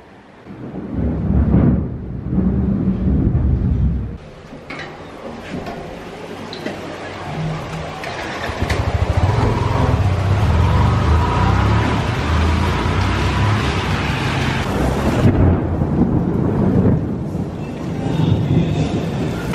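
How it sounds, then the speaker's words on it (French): Heavy thunderstorm outdoors, with low rumbling thunder and a dense wash of pouring rain and wind that keeps up throughout and swells in loud bursts. "il y a un énorme orage dehors"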